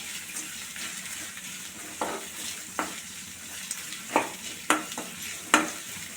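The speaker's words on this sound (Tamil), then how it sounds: "வெங்காயம் சேர்த்துருவோம் வெங்காயம் நல்லா வதங்கட்டும்" Onions sautéing in a pan for a Karaikudi-style mandi, a steady broad sizzle broken by a handful of sharp stirring scrapes and clacks near the end, close and moderately loud, with no talking.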